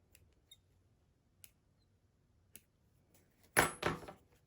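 Scissors cut excess fabric from a towel topper, a few faint isolated snips followed by a louder burst of close crunching cuts near the end.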